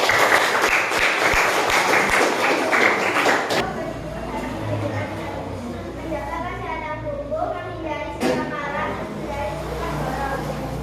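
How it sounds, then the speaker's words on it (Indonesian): Classroom applause for a group of students, with a burst of dense clapping that stops abruptly after a few seconds, followed by children's chatter and a teacher talking. "Tepuk tangan lagi yang paling meriah untuk kelompok 1."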